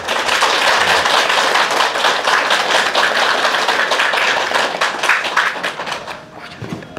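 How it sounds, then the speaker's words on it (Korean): A lecture audience claps for volunteers, a dense, loud burst of many hands that holds steady, then thins and fades over the final second. "여러분 박수 한번 부탁드립니다."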